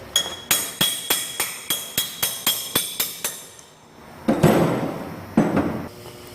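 A hammer strikes metal about a dozen times in a steady, ringing rhythm while replacing front ball joints on a Ford F250, then a pause, followed by a couple of scraping, clunking metallic handling sounds.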